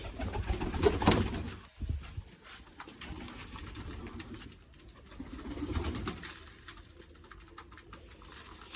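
Pigeons coo softly and repeatedly in low, throaty calls, with rustling and light background noise around them.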